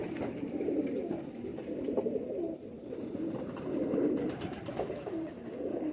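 Pigeons of the Nayab Sialkoti breed coo in a dense, continuous low murmur close by, swelling and fading in waves over several seconds, with no talking.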